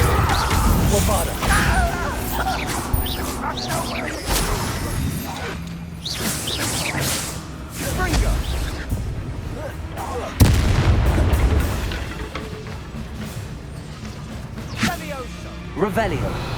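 The Bombarda blasting spell is cast in Hogwarts Legacy, booming explosive blasts and crashing impacts over a dense game soundscape with music and effects. A sharp loud burst stands out midway, and characters speak throughout.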